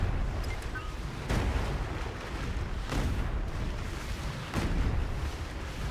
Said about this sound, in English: Let's destroy this turret first Open fire.